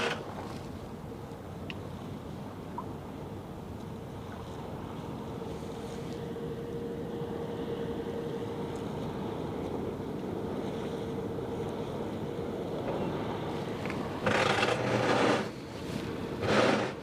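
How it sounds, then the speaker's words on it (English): The engine of the ship Castor arriving at a pier in Terneuzen on the Westerschelde, a steady low drone with wind buffeting the microphone, a few louder gusts near the end. "Oh, look at that engine. Look at that exhaust plume."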